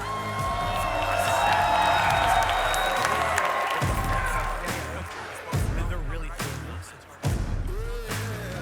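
A crowd cheers and whoops at an arm wrestling event, a loud sustained roar with music or announcer sound mixed in, broken by sharp bangs and short surges of noise.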